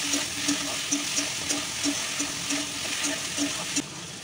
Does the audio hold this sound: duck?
no